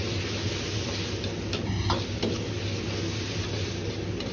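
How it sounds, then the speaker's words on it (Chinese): Diced eggplant stir-fries in a thickening sauce in a wok, with a continuous close sizzle broken by a few scraping stirs of the spatula. "翻炒至汁干粘稠后"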